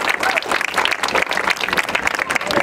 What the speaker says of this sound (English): So one more time, a round of applause for our distinguished invited guests.